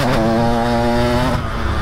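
A KTM 85 two-stroke dirt bike engine revs loud and close, holding a steady buzzing pitch for over a second before dropping off, with no talk over it.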